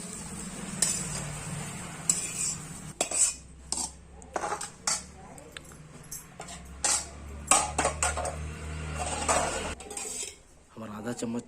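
Roasted khedha and bhindi are spooned out of a pan onto a dish: a series of sharp metal spoon scrapes and clinks against the pan, irregular and close, with faint sizzling between strokes and no talk.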